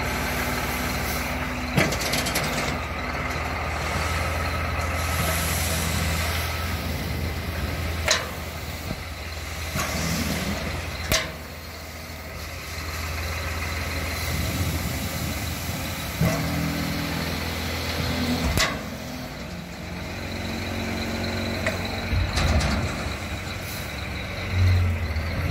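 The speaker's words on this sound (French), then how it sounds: "je me suis fait livrer 6 mètres cubes de terre végétale avec un gros camion qui est venu me livrer" Large delivery truck bringing six cubic metres of topsoil, its engine rumbling steadily at a moderate distance with occasional sharp knocks and air-brake hisses over about twenty-five seconds.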